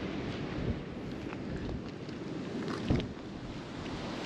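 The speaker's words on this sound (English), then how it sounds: "But it's definitely windier over this side. A lot windier." Wind gusts steadily beside Siblyback Lake, a broad rushing roar buffeting the microphone, with a slightly stronger gust near the end.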